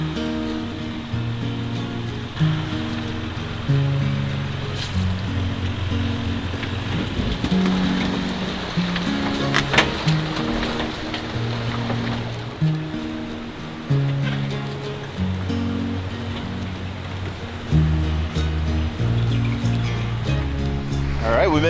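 Surf washing onto a beach in Canada after rain, a steady wash of broadband noise running throughout with swells every few seconds, heard under a person's talk and low rumbling.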